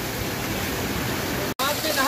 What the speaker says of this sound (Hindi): ये पानी काफ़ी ठंडा है क्योंकि ये एकदम अंदर पहाड़ों से आ रहा है